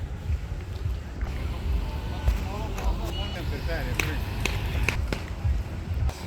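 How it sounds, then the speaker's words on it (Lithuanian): Gusty seaside wind buffeting the microphone, a low rumbling roar with uneven swells, while people talk and move nearby. "yra vėjas, nes arti jūra"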